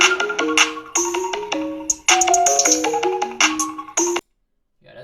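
Cheap one-dollar hip-hop beat with a bright, ringtone-like synth melody over simple percussion, choppy and sectioned, stopping abruptly before a brief quiet tail.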